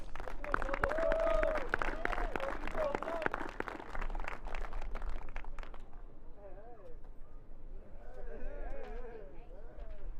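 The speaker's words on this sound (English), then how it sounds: "Please give a round of applause for these cadets" Broad crowd applause for cadets at a military academy award ceremony fills the first half, dense and sustained, then thins out while people talk over a noisy room.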